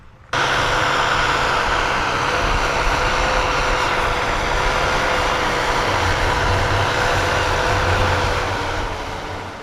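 A Hattat T4110 tractor ploughs a field after a soybean harvest, its engine giving a steady, loud drone that holds unchanged from just after the start to the end, with no voices.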